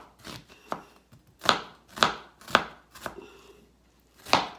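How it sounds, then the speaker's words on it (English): A knife dicing caribou meat into small pieces on a board: a series of about eight crisp, close chops at an uneven pace, alone without talk. "cut it up into small pieces"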